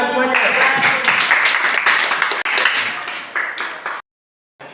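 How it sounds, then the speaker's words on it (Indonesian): A classroom group claps in a dense, lively burst of applause that rises quickly and tapers off, ending abruptly in silence before faint sound resumes. "Tepuk tangan buat semuanya."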